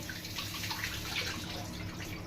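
Water pours into a cooking pot for a lentil dish, a short steady splashing stream heard up close and alone.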